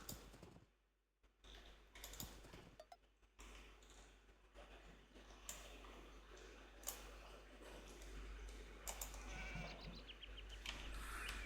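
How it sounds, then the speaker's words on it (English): Sheep bleat in the Age of Empires II strategy game, a few short in-game calls scattered among clicks and ambient game sounds over a steady background hum, with no talk. "I'm just gonna steal your sheep."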